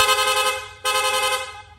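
A loud aftermarket rapid car horn blares in a rapid, continuous burst, cuts out for an instant, then blasts again.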